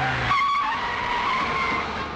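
A CBCID Ambassador car drives in through a gate, a brief, close burst of engine and tyre noise over a steady rumble.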